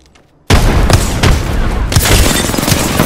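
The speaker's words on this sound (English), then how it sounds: "Frag grenade sent." A frag grenade detonates in Apex Legends after a moment of near silence, a sudden loud boom followed by a sustained, dense roar of blast and gunfire-like crackle that keeps going with a second surge, no talking.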